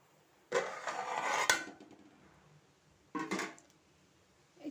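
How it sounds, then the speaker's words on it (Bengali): A metal lid clatters onto a cooking pan while making puti fish charchari, with two short scraping, clanking bursts a couple of seconds apart, quiet and close, with no talk. "এই যে এখন আমি ঢাকনা দিয়ে ঢেকে রেখে দেবো"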